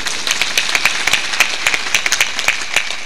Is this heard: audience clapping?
yes